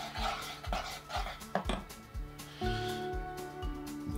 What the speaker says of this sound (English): Just give the sauce a quick stir.